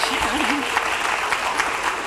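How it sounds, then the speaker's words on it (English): A studio audience claps in a dense, steady round of applause throughout, with a voice briefly heard over it at the start. "Well, we applaud you."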